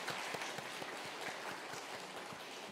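A church congregation at a Sunday worship service claps in welcome for first-time visitors, a steady, moderately loud patter of many hands with individual claps standing out against the dense wash.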